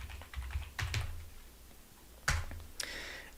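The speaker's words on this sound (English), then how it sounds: "So I'm going to type in divide." A computer keyboard is typed on in a few short clusters of light clicking keystrokes, close and quiet, with pauses in between.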